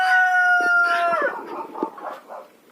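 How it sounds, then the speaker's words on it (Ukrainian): Chickens in an unheated winter coop cluck and squawk close by as they are let out, opening with a drawn-out, crow-like call and then a run of short, uneven clucks that fade toward the end. No one talks. "Відкрию сіточку і запущу курей."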